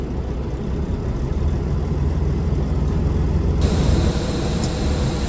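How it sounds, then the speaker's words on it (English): A truck engine idles roughly with a low, steady, slightly uneven rumble, close and continuous, with no talking. "She's still idling a little bit rough."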